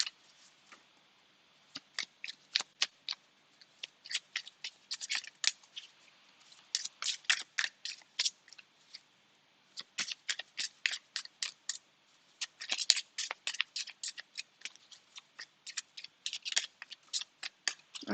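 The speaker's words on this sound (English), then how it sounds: "I do tend to have to shuffle new decks for a long time before they start" Crisp, dense bursts of riffling card snaps from a new deck being shuffled at close range, repeating in quick clusters with short pauses between, with no talking.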